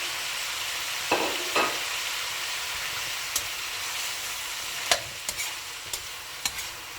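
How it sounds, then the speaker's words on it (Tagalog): Green beans are stir-fried in a pan for pancit bihon, with a steady sizzle broken by a scattering of sharp clinks and scrapes as a utensil stirs them, close and without talk. "So we can put our green beans now. I'm just gonna stir it up as well."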